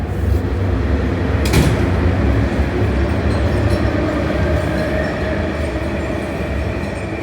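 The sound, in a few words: train passing at Tsing Yi Station, Hong Kong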